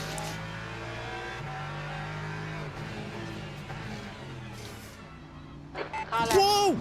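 A race car in a racing video game passes on the left, its engine note droning and shifting under steady talk before a loud, close, sharply rising rev and whine at the end.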